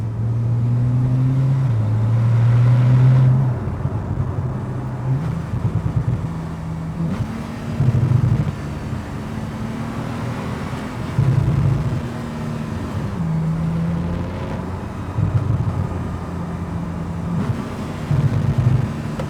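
A Porsche 911 991.1 Turbo drives with its engine revving up and down through gear changes between second, third and fourth, loud and close throughout.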